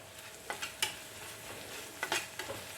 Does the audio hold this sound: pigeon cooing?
no